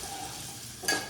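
Onion hits a hot pan and sizzles in a close, steady hiss, and a sharp burst of crackling comes near the end as it is stirred.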